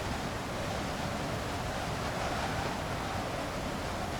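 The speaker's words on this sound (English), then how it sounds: "Sounds really windy out there." Wind outside in the TS2021 train simulator video game during a supercell storm scenario on the Washington to Baltimore line, a continuous even rushing noise with no breaks and no talk.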